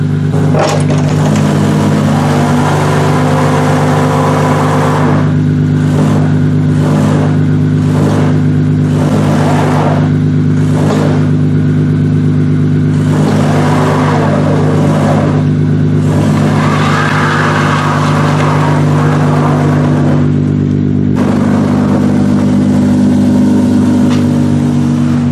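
An old car engine, recently pulled out of long storage, runs loud and close, idling with a steady low hum and rising into repeated revs in short bursts, no voices over it.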